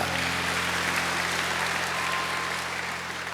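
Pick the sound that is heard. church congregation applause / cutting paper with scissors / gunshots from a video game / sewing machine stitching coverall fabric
church congregation applause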